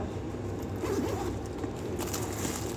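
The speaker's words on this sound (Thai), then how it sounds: "ด้านในรูดซิปออกมาก็" A zipper rasps open on a men's chest bag in a shopping mall, a close, scratchy pull heard over steady indoor background noise.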